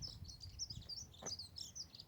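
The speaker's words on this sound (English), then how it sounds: "you've been able to hear all kinds of bird life, all the birds singing their songs" Birds chirp and tweet faintly along a nature trail in Telford, with scattered high calls over soft outdoor background noise.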